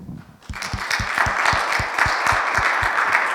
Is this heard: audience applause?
yes